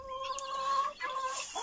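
Hens in a straw-bedded coop, scratching through the straw for leftover seeds, give a short drawn-out clucking call followed by a second briefer one, close and clear.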